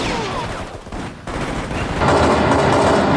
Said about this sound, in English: When you fire a gun in an environment, a gunshot is a very short sound that then bounces off everything around it.